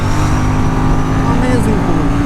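Aprilia Tuono 457 motorcycle pulling hard in fifth gear on a wet road, a steady loud engine drone with rising pitch under continuous rider talk and wind noise.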